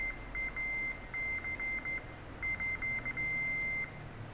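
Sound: beeping from an electrical tester on a keyboard switch

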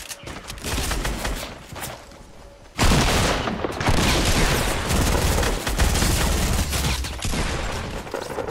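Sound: gunfire in video game

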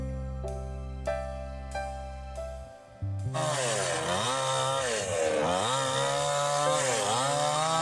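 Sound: power saw cutting excess off wooden boards

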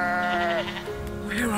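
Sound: sheep bleating

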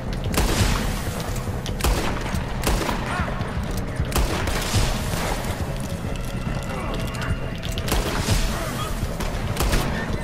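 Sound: gunfire from shooting at people in Red Dead Online video game

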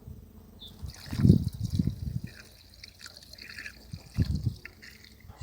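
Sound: yeast mixture being poured into 10 litres of water

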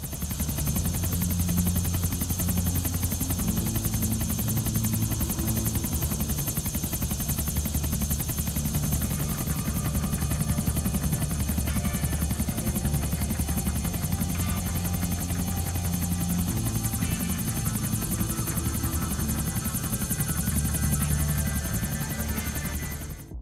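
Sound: helicopter flying with GTA 5 style flying music, GTA 4 video game

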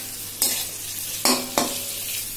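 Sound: frying and stirring potatoes and papad in a pan

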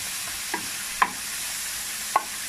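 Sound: peppers sautéing in a pan

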